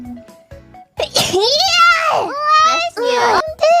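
A child-like voice lets out a sneeze amid high-pitched chatter and babbling, with a couple of sharp bursts standing out over the talk.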